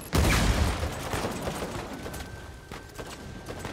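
A dense volley of gunfire erupts in an Uncharted 4 firefight, opening with a loud close burst and then rattling on as overlapping shots that slowly thin out over a few seconds.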